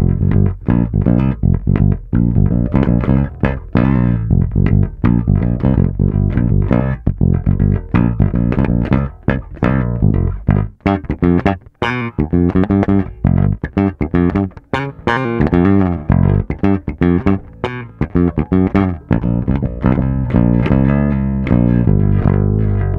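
Alembic Signature electric bass on the neck pickup with the Q filter turned down to about a third, a dense, continuous run of punchy plucked notes, loud and close, with no talking.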